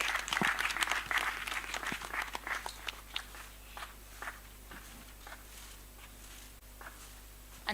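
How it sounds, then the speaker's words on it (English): Scattered applause at a conference session welcomes a moderator, starting as a fairly loud burst of claps and thinning to sparse, faint claps over a low steady room hum. "Let's welcome him with a round of applause."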